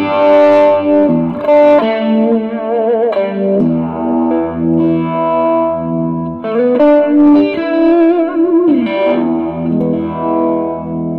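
Heavily distorted electric guitar chords through a Fulltone Mini Deja Vibe 3 pedal ring out with thick, saturated sustain and some chorus-like wobble, played loud and close with no talking.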